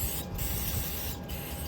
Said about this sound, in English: Right, spray your gun down after each use.